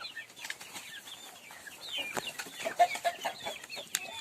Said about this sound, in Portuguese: Vou separar esse galo ali, ó, e as duas frangas lá no canto